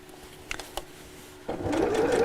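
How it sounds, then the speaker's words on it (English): Sewing machine top stitching fabric about a quarter inch from a seam, starting after a few faint taps and then running steadily and loudly on its own. "So I'm just sewing about 1/4 inch from the seam"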